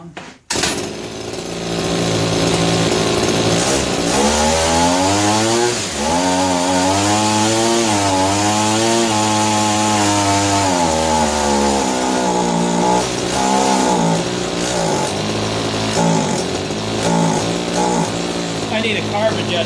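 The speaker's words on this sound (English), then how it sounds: "Let's fire it back up without the guard on it." A small gas-powered cutting machine runs with its guard removed, its two-stroke engine loud and close, revving up and down in rising and falling surges with an uneven idle, suggesting it needs a carburetor adjustment.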